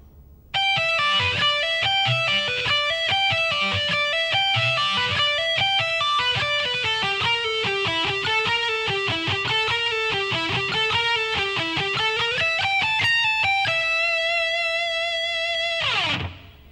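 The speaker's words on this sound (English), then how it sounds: "the whole lick slow should sound like this" Distorted electric guitar runs through a full shred lick at a slow tempo, with a steady stream of picked notes, a sustained held note near the end and a brief noisy release at the close.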